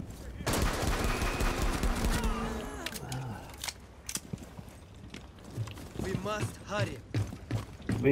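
Rapid AK-12 rifle fire in the video game Rainbow Six Siege rattles in bursts of sharp cracks with mechanical clatter. Game voices and a player talking run over it.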